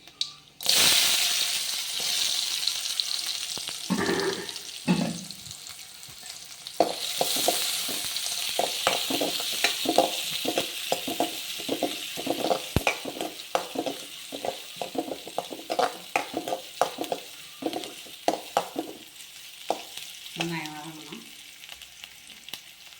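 Chopped onions sizzling in oil in a pot for mutton bone soup, a continuous close fry with frequent rapid stirring scrapes and clinks of a utensil against the pot, no speech.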